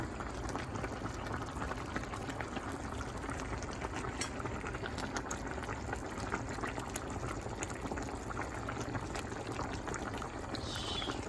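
A pot of chicken and tomato stew simmers, a constant close bubbling and hissing with dense small pops, steady throughout with no talking.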